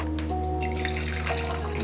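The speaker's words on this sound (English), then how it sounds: "So after 3 minutes, you pour your tea into your tasting cups." Brewed black tea poured from a cup into wine glasses used as tasting glasses, a steady close liquid trickle and splash running the whole time with no talk.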